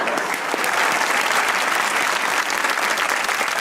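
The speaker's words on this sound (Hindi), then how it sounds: "इनके लिए भी तालियां बजाऊंगा मैं" Studio audience applauding at a Pakistani talk show, a dense, steady wash of clapping hands that fills the whole stretch at even loudness without pause.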